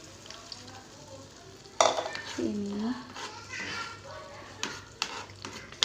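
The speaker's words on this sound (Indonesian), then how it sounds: "Ini harus ditumis nyampe wangi" Spice paste sautéing in a pan, with soft sizzling, stirring scrapes and utensil clinks against the pan, plus a louder burst of activity partway through and low background talk.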